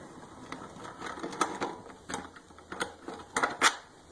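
A bolt is turned out of the fuel tank of a CRF450R motorcycle, making a series of close, irregular metallic ratcheting clicks and light mechanical ticks.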